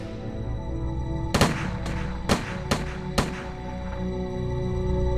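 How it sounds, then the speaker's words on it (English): A firing squad of six men lets off a volley of musket fire: five sharp, loud cracks in quick uneven succession, each with a short echoing tail, over a steady low background. "The first 6 men fire."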